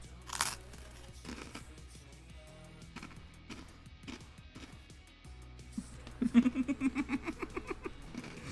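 A freshly baked cookie crunched between the teeth: a loud bite, then sparse chewing crunches, ending in a rapid burst of crisp crackles, with soft background sounds.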